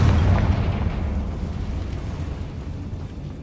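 A Confringo blasting spell goes off in the Hogwarts Legacy game, a loud booming explosion that rolls out in a long rumbling decay.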